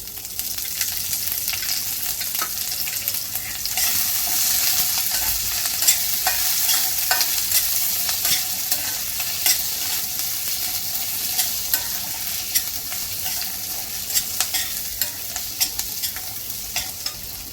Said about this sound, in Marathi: कांदा आपला इथे लाल झालेला आहे, त्यामध्ये आता आपण इथे थोडंसं तेल घालून घेऊयात।